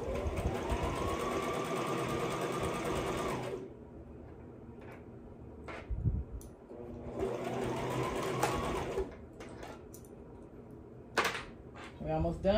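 A sewing machine hems a maxi dress in two long steady whirring runs, each winding up and then stopping, with brief clicks and handling noises in the pauses between them.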